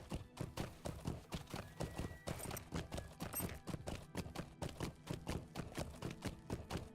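A horse trots along in the game Lord of the Rings Online with steady, rhythmic clip-clopping hooves that stay loud and close for several seconds, with no talking over it.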